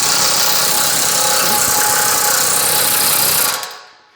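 A Woodward-Fab WFPL28 pneumatic planishing hammer runs fast with its gap closed, making a loud, dense, rapid hammering buzz that continues steadily, then cuts off abruptly near the end.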